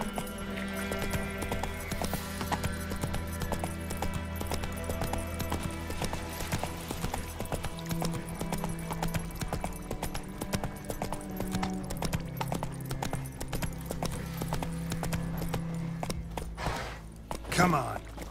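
Rapid rhythmic hoofbeats of a horse galloping in The Witcher 3: Wild Hunt on PS5, steady clip-clop over game music throughout, ending with a short sharp thump.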